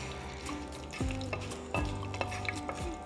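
Curry leaves being mixed in a pan while making mango pickle: a steady sizzle broken by a few loud spoon scrapes against the metal, close up with no talking.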